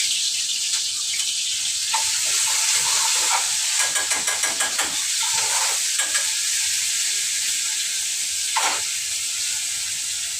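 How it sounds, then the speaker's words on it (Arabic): Minced garlic fries in hot oil in a pan, a loud continuous sizzle and hiss with crackling bursts and occasional scraping stirs, close up. "نشوح الثوم بقى."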